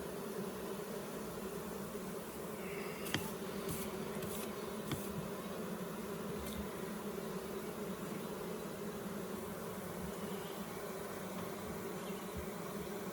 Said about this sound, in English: I'm happy, I'm very happy with this swarm hive, with this colony.